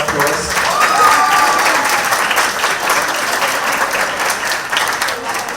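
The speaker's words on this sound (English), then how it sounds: "Just give all of them a round of applause." Guests at a children's ball at City Hall applaud the sponsors. A dense, loud round of clapping fills the room and holds steady throughout, with some voices mixed in underneath.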